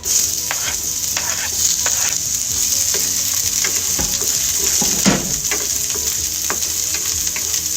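Onions and garlic frying golden brown in a pan, a steady loud sizzle with scattered pops and occasional stirring scrapes throughout.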